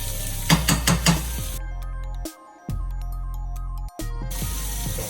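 Wagyu steak fries with butter in a hot pan, a steady close sizzle broken by a few brief dropouts, with some clattering near the start.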